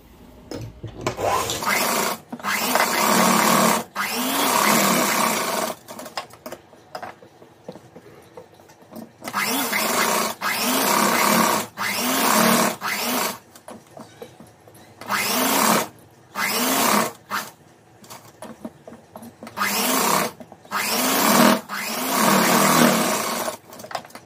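A sewing machine stitches coat lining cloth, running in loud whirring bursts of one to three seconds with short stops between them, close and alone without talk.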